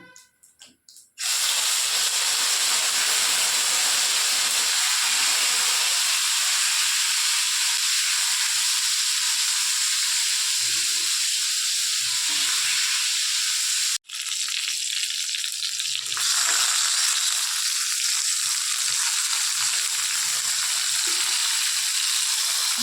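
Tomatoes dropped into hot oil tempered with cinnamon erupt in a loud, steady hissing sizzle that runs for about twenty seconds, broken by one brief cut before it carries on at full strength.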